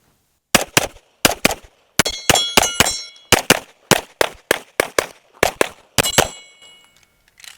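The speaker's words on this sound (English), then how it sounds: "a little bit of moving and shooting on paper, and I might tag a couple on the steel on the move" A pistol fired on the move at paper and steel targets: about fifteen sharp, loud shots in quick uneven bursts, several followed by ringing metallic clangs of rounds hitting steel.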